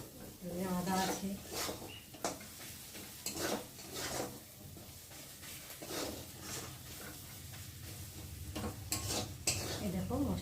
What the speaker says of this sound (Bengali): এই দেখো মশলাটা একটু ভালোভাবে ভাজা হয়ে গেছে